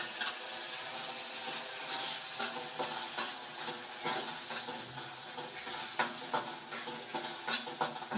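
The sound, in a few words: ground masala paste frying and being stirred for egg curry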